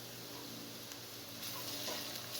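Onion, garlic and ginger fry together for an aloo gobi, making a continuous, even sizzle that swells slightly toward the end, with no talking.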